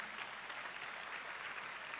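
An audience at a Penang event claps a round of applause, a steady, fairly faint wash of many hands that continues evenly through the short stretch.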